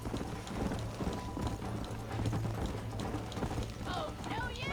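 A horse's hooves clip-clop in a quick galloping rhythm in the Red Dead Redemption video game, steady under a low hum and game sounds, with voices in the background.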